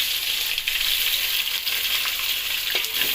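Chopped onion, potato, carrot and green chilli frying in a pan for vegetable biryani, giving a continuous bright sizzle with occasional stirring clinks and no talking.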